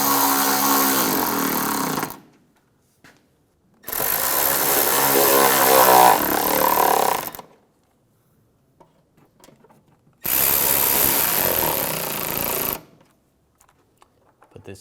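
Power tool driving and snugging bolts while installing a washer reservoir on a 2009-2013 BMW 328i xDrive, three loud bursts of whirring, about two to three seconds each, separated by silent pauses.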